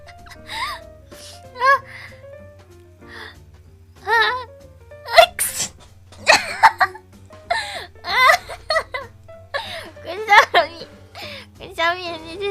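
A young woman's sharp sneeze bursts out amid breathy gasps, giggles and chatter, with several explosive bursts scattered through lively, close-up vocal sounds.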